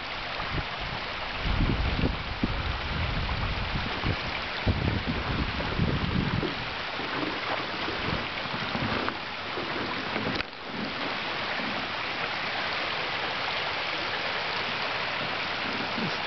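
A creek runs in a valley in a continuous, even rush of flowing water, with some louder rumbling and handling noise early on, and no talking.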